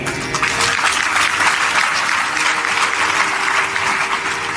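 An audience at a satsang clapping together, a loud, dense, continuous burst of applause sustained throughout, with faint voices mixed in underneath.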